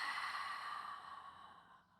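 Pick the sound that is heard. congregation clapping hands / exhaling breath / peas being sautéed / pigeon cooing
exhaling breath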